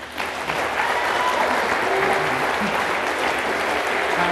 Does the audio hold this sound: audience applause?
yes